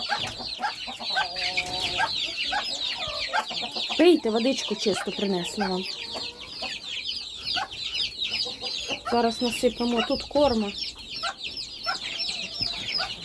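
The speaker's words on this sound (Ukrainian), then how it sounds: "голосно кричать, ці бентанки маленькі" A crowd of bantam chicks cheep loudly and nonstop, shrill high peeps overlapping while someone talks over them.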